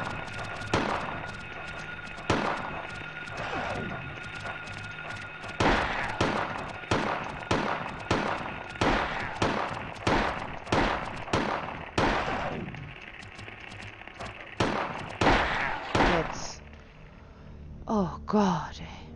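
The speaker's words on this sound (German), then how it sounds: "Ich schieße dahin, wo ich hingucke." Gunfire in the video game Silent Hill: a long series of sharp, loud shots fired at irregular intervals, some in quick pairs, with a few stretches of talking between them.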